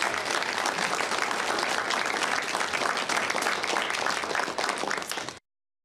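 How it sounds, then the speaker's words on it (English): Steady, dense applause from a crowd at a Packers Fan Hall of Fame induction ceremony, loud and continuous for about five seconds before cutting off abruptly. "Give yourselves a round of applause."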